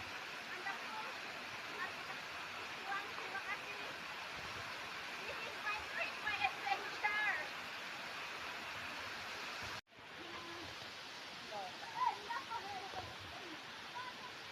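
The Tengku Siwa waterfall flows with a steady broadband rush of falling water that carries on throughout. A brief cut drops it out for a moment before it resumes.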